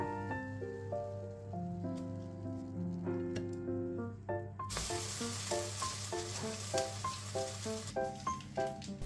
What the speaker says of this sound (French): je viens faire durcir un petit peu les tranches à la poêle, environ 1 minute de chaque côté